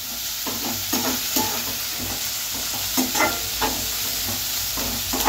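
Tomatoes fry lightly in a pan for buttermilk charu, with a steady soft sizzle and repeated scraping stirs sounding close and alone.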